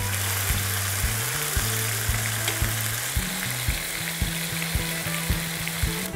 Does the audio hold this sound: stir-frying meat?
yes